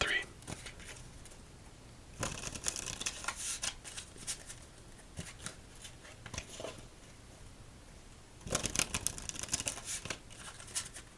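Playing cards from a bubble gum-themed deck are riffle shuffled in several quiet, close bursts of rapid fluttering, with soft handling sounds between them in a calm solitaire setting.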